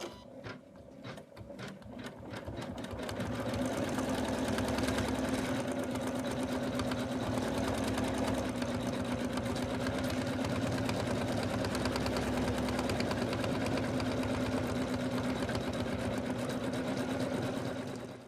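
Embroidery machine stitching the hat band on an in-the-hoop snowman stocking, a steady fast mechanical whir and rapid needle chatter that runs continuously and loud for the whole stretch after a brief start-up.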